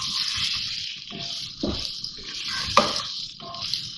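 Onions stirred in hot oil in a pot while making beef stew, with a soft steady sizzle and a few scraping spoon knocks at a close distance.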